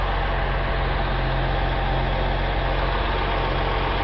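A 1975 Datsun 280Z engine idles steadily at about 900 RPM, giving a continuous, close, even low rumble with no voices.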